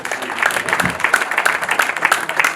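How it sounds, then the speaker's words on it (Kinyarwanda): Applause from a wedding audience: dense, rapid clapping from many hands, fairly loud and sustained throughout. "murampera amashyi mukabyara"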